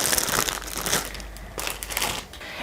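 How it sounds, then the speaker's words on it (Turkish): Old secondhand books are slid back into a plastic bag, producing bursts of close, crisp crinkling and rustling that come and go in irregular waves. "Önce bunları da poşetine geri koyayım."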